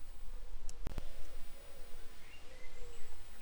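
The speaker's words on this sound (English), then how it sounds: "Birds are in full song." Garden birds in full song, their faint scattered chirps and warbles drifting at a distance, with a couple of sharp clicks close by near the start.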